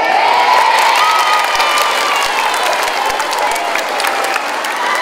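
A school crowd at a flag ceremony claps and cheers continuously, with whoops and children's shouts mixed into the dense, steady applause.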